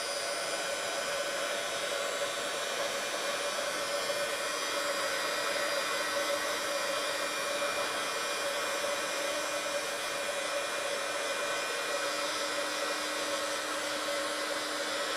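Heat gun blowing steadily on embossing powder at a craft table, a continuous close, even airy whoosh with a faint motor whine that runs unbroken throughout, with no voices.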